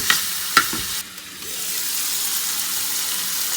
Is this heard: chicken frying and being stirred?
yes